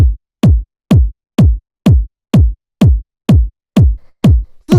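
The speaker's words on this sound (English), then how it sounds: "It's a very 909-esque kick." A punchy 909-style kick drum from a deep minimal house track thumps in a steady four-on-the-floor pulse, about ten evenly spaced hits each with a sharp click and deep booming decay, loud and dry with no other sounds.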